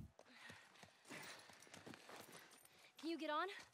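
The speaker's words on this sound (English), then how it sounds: "Just get the horse." Horse hooves clip-clop at a walk in The Last of Us remake. The faint, scattered hoofbeats mix with game voices talking throughout.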